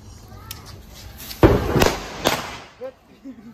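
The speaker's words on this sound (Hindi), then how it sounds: "और पटाखा स्टार्ट हो गया इधर," Diwali firecrackers go off outdoors: a few sharp loud cracks close together in the middle, with crowd noise and people talking around them.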